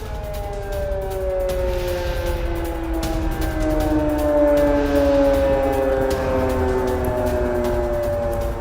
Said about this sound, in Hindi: इलाके में ये सायरन बज रहे हैं